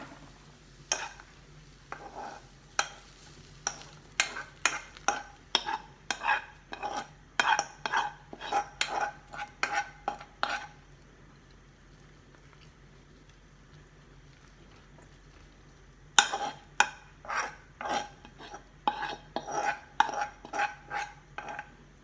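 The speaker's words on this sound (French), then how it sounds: "Vous mélangez de nouveau. Vous rajoutez vos légumes." Stirring and mixing of a savory cake batter with vegetables in a bowl: a sustained series of quick scraping, clinking strokes, close and fairly quiet, with a pause of several seconds midway before the rhythmic mixing resumes.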